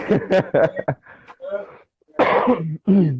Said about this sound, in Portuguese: isso daqui é uma pigarra de fumante, não é coronavírus